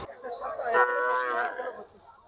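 A cow at a cattle market gives a single drawn-out moo, loud and close, rising then fading over about two seconds.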